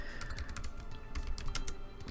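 Rapid, steady keystrokes on a computer keyboard while typing into Microsoft Word, close and clear with no voices.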